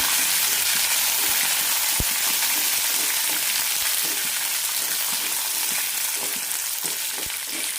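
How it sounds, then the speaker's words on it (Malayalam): Garlic cloves, red chillies and curry leaves sizzle in hot oil for a mustard tomato chutney, a loud, steady, close frying hiss with occasional stirring clicks and no voices. "6-7 വെളുത്തുള്ളി അല്ലി ഇടാം. 4 ചുവന്നമുളക്, കറിവേപ്പില നന്നായി വഴറ്റാം."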